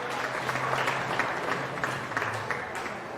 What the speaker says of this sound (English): Let's give all of our Holstein feeder calf exhibitors a round of applause for bringing some